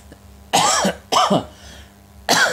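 Three harsh coughs from one person, close and loud, with short pauses between them; the last cough arrives after a longer gap.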